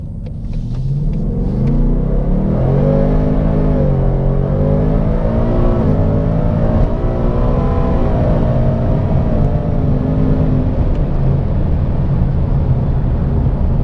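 A Roush supercharged 700 hp Mustang GT accelerates hard, its engine note rising through the gears as a loud, close rumble, dipping briefly at shifts and holding a sustained roar to the end.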